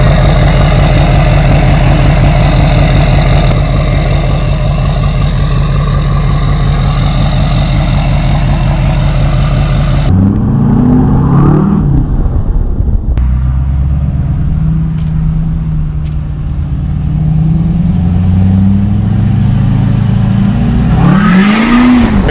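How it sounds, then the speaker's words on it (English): Truck engine running close by, first a steady pulsing idle, then shifting to revving with rising and falling pitch as the throttle is worked. "Here's a truck right now running."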